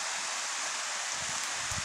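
River water flowing at a fishing spot, a continuous, fairly loud broadband rush of current close by, steady throughout with no voices.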